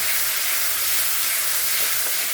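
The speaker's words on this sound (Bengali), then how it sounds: "এটাকে আগে আগে অল্প ভেজে নেব" Onion and tomato paste frying in a hot pan, a steady loud sizzling hiss that holds evenly from start to finish with no talk.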